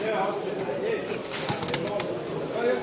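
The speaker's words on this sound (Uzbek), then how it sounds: "Beg'am kaptar ekan bu." Pigeons at a pigeon market, with faint, low cooing calls under a busy crowd murmur, plus a few sharp clatters midway.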